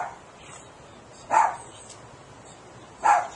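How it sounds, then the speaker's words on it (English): Dog barking indoors, two short sharp barks spaced well apart over a quiet room background. "Why are you barking so much?"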